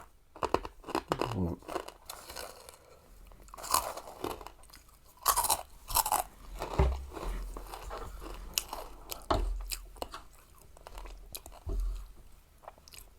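Someone eats khanom jeen rice noodles with a crunchy puffed snack in close-up, giving loud crisp bites and wet chewing crunches in irregular bursts, with brief speech between mouthfuls.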